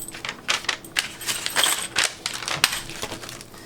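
Metal keys for a locking mailbox jingle and clink as they are handled up close, in irregular bright clusters with no talk.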